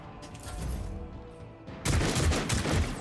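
Gunfire in the video game Warhammer 40K Rogue Trader, with a low rumbling battle backdrop that erupts into a loud, sustained burst of shots partway through, with no voices.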